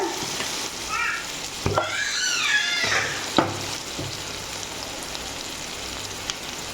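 Brinjal and potato pieces sauté in oil in a pan, giving a soft steady sizzle with scraping stirs and a few sharp clacks of a spoon against the vessel.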